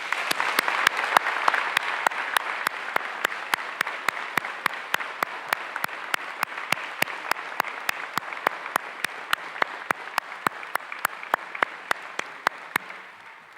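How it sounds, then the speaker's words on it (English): An audience at a graduation ceremony claps together in sustained applause, dense and even, with a few sharp near claps standing out and the clapping tapering slightly toward the end. "will all of you give them a round of applause?"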